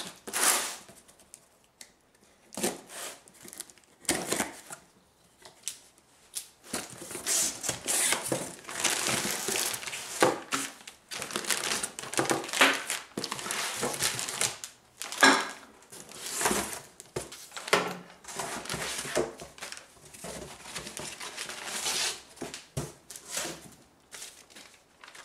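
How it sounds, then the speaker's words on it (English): A Motive Products model 0290 brake bleeder box is opened and unpacked, with crinkling packaging, rustling and scraping cardboard, and occasional light clatters coming in irregular close-up bursts between short pauses. "now we're going to open the box up and see what's inside"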